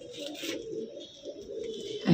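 Soft, low cooing of a Punjabi breed female pigeon murmurs continuously close by, with a slight rise in loudness at the very end.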